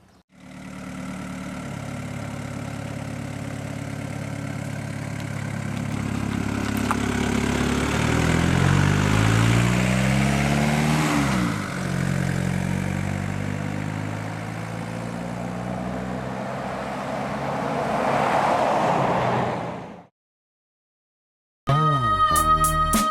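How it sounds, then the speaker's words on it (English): A diesel vehicle engine runs on converted veggie oil with a loud, steady drone whose pitch rises and falls over time, then it cuts to silence before a brief tonal sound. "just load up your diesel vehicle and get out there on your long haul"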